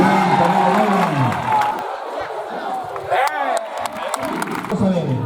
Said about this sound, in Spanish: Y ese fuerte aplauso.